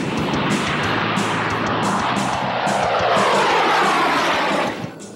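A flying wing airplane passes overhead with a loud, steady propeller and engine roar that holds throughout and then drops away abruptly at the end.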